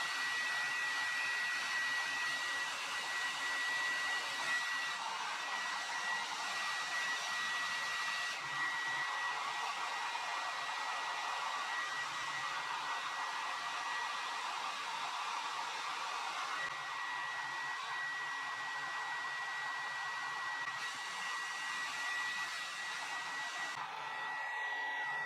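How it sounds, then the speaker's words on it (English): A hair dryer fitted with a diffuser blows steadily on curly hair, a loud continuous whooshing hum with a constant whine, airflow shifting slightly as it moves around the head. "you're gonna wanna cup diffuse when you put the diffuser like this and lift up the roots with your other hand"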